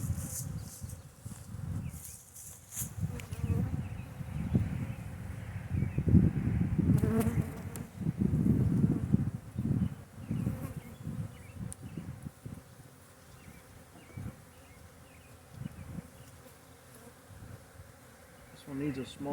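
Honeybees buzz steadily around an open hive during a spring inspection, a dense close drone that swells and fades with occasional handling bumps.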